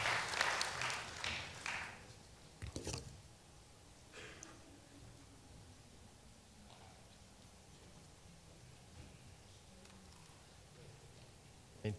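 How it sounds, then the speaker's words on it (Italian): Applause at a Rotary International district assembly in Vicenza, a short burst of clapping that fades within about two seconds, followed by a few scattered claps and a quiet, reverberant room. "meritato applauso"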